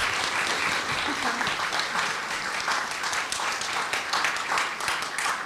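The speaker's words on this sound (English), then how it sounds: "Ladies and gentlemen, please a big round of applause for Mrs. Anne Vasquez." Steady applause from an audience after a speaker's session, a thick continuous patter of many hands at moderate distance lasting several seconds, with a voice briefly heard underneath near the start.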